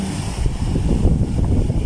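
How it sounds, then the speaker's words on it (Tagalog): Strong typhoon wind buffeting the microphone at a river mouth shore as big waves break, a loud continuous low roar and rumble with no clear pauses. "Ang lakas ng hangin, kabuhaghag. Ang lalaki ng alon."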